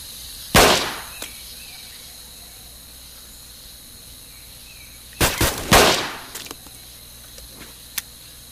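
Sharp gunshots in the Vietnam War video game Vietcong: one isolated loud shot, then a quick cluster of three near shots a few seconds later, with faint ambient hiss between and no talking.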